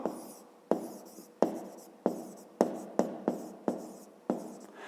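Handwriting on paper during a math lesson, a series of about nine quick scratchy pen strokes, each starting sharply and trailing off, close and quiet with no voices.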